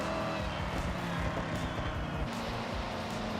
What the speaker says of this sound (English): the reason the engine on this GMC Jimmy sounds so weird is because it's got a supercharger in it